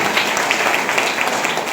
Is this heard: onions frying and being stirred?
no